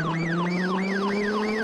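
A police siren wails from a VAZ-2101 Kopeyka, a Saint Petersburg militia car in BeamNG.drive, its pitch sweeping up and down in quick repeated cycles over a steady engine drone, loud and close, with no talking.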